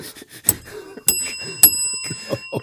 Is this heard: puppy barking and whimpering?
no